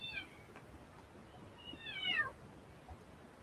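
A cat meows quietly indoors, first a short call and then a longer, rising meow, with faint room noise in between.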